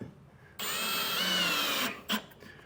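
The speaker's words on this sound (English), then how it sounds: "we will put a couple of screws right here into this end" A power drill drives screws into drywall in one steady, loud whirring burst of about a second and a half, then a short second blip as it stops.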